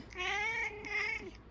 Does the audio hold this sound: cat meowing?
yes